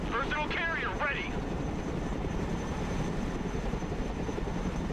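A Chinook helicopter in Broken Arrow, its rotor and engine roar a steady, dense rumble throughout, with a voice speaking briefly over the start before the thumping noise carries on alone.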